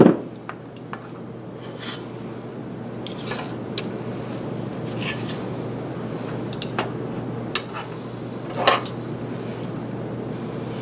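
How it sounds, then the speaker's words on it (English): Metal tablespoons and teaspoons scoop and scrape cookie dough, giving sparse light clinks and taps over a quiet room hum. "I'm going to scoop with the tablespoon and then push off with the back of my teaspoon"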